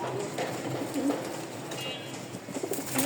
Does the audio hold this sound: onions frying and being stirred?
no